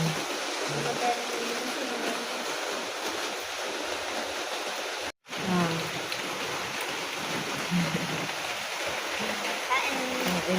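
Steady rain hisses and patters continuously, with faint voices talking underneath and a brief dropout midway.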